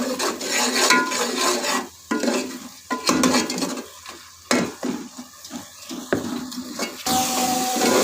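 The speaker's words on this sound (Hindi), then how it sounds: "इसको अच्छी तरह से मिक्स कर लेंगे" Red chili masala being mixed in a pan, with bursts of vigorous scraping and clanking of a spoon against the pan over a hissing fry, separated by brief pauses.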